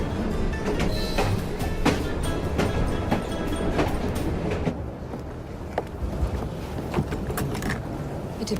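A train in the video game Assassin's Creed Syndicate, heard as a steady, loud rumble with scattered clanks and metallic clicks, easing slightly partway through, with no voices.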